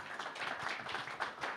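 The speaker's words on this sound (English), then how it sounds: "Please clap for the panel as they leave." Conference audience applauds a departing panel, a soft, somewhat distant patter of many hands clapping steadily for a moment.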